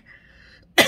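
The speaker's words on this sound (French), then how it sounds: "Ça m'a fait tousser." A single sharp cough bursts out near the end, loud and close, after a stretch of quiet low hum.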